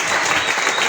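A church congregation applauding the Lord, a loud, dense wash of clapping from many hands filling the room.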